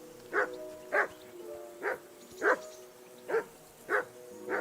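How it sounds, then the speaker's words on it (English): Dog barking in the video game Kingdom Come: Deliverance 2, seven evenly spaced single barks over steady low ambient sound, fairly close and moderately loud. "Call off that mutt of yours!"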